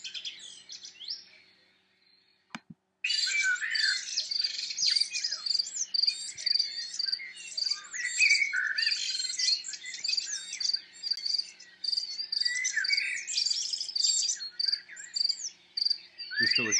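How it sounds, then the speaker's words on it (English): Dense birdsong and chirping fills the recording, a busy chorus of calls and tweets with insect-like trills, heard continuously and fairly close after a brief quiet gap near the start, with no talking. "This is like no music, sound of birds."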